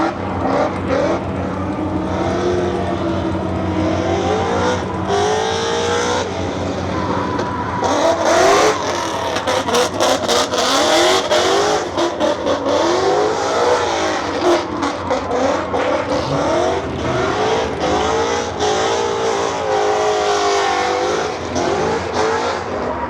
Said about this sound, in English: I have a feeling these two cars are gonna go for a little drift around.